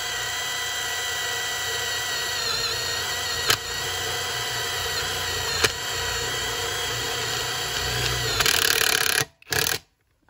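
A Hukan X1 Pro cordless screwdriver drill runs steadily at close range, driving a screw into the outer edge of a workpiece, with a brief louder burst near the end before cutting off abruptly.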